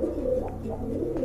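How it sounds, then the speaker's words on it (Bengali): A pair of large white racer pigeons cooing steadily, low rolling coos repeating close by at moderate loudness, with no voices over the calls. "এখানে এক জোড়া হোয়াইট রেসার কবুতর আছে মাশাআল্লাহ, খুবই সুন্দর, অনেক বড় সাইজের"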